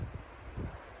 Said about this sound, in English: It's blue clear skies right now, but it's windy as hell